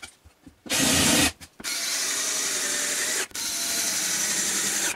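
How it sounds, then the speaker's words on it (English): A power drill countersinks screw holes in the roof of an insulated rabbit hutch, running loud and close in a short burst, then a long steady whir broken by one brief pause. "Now I'm going to have to countersink the holes so that there's nothing, no screws sticking up through the roofing felt"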